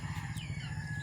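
Farmyard chickens cluck and squawk close by in a brief, busy burst of overlapping calls over a low rumbling background.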